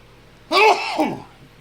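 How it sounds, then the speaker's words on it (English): A single loud, close human sneeze, a sharp burst with a drawn-out breathy tail, heard alone. "Excuse the sneeze."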